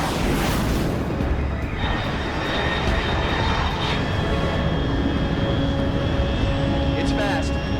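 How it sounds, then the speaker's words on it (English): A fast unidentified aircraft at high altitude in the Metal Gear Solid Delta: Snake Eater video game, a loud continuous engine roar with rising whine tones, filling the scene without any voice. "Control, unidentified aircraft detected."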